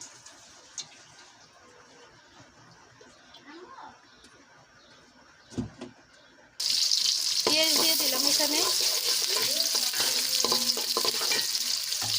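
Oil heats in a wok for a broken rice dish: a faint hum with a few knocks and soft voice sounds, then a sudden loud, steady sizzle starts midway and continues to the end.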